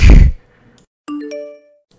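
Text message notification on a phone, a bright, clear ding with ringing overtones after a brief breathy sound, then a faint tail.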